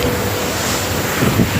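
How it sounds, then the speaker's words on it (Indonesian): Strong wind beside a waterfall hidden in a forest: a loud, steady roar and rushing noise with gusty buffeting on the microphone, continuous throughout and with no talk. "Ya, udaranya sangat kencang."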